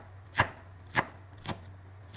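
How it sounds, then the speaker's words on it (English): A knife finely chops the white part of a green onion, giving three distinct, close chops about half a second apart over a faint low hum. "finely chop the white part of the green onion"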